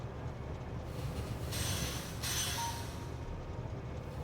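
Train rolling along a track in the Factorio video game, a steady low rumble with a brief swell of hiss partway through, heard alone with no talking.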